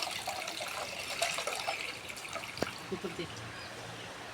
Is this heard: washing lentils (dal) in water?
yes